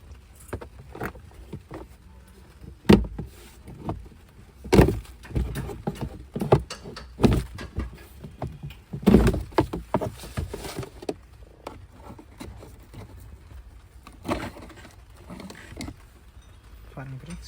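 Someone removes the cabin air filter from a Maruti S-Cross during a service, with a long series of scattered plastic clicks, knocks and clattering handling noises, close and uneven, some louder bumps standing out against a quiet background.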